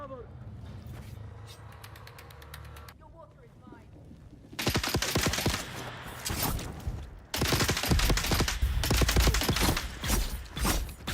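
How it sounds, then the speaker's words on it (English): Dense bursts of automatic gunfire in the game Dune: Awakening, quieter at first and then loud and sustained in heavy rattling volleys with shots layered over each other. "Stop shooting me!"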